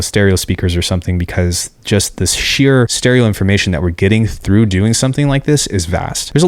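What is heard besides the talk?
No everyday noise stands out behind the speech.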